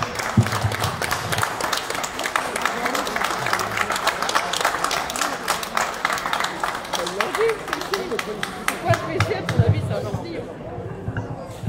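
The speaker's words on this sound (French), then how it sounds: "On peut applaudir." An audience at a charity event results announcement and prize draw applauds in a long, dense wash of clapping with crowd murmur and voices mixed in, fading toward the end.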